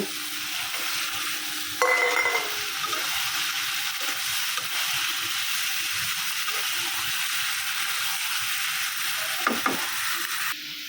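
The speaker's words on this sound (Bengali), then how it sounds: "ভালোভাবে কষাই নিচ্ছি এখন ডিমটা দিয়ে দিব" Curry stirred and fried in a pan, a steady close sizzle and hiss with a spoon scraping and clinking now and then throughout.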